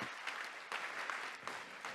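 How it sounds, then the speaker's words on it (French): Audience at a conference panel on economic inclusion applauds speakers taking the stage, a faint, steady wash of many hands clapping with a few louder claps standing out, no voices. "Vous pouvez les applaudir parce que c'est pas simple de monter sur scène"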